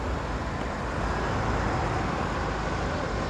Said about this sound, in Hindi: फर्राटे भरती गाड़ियाँ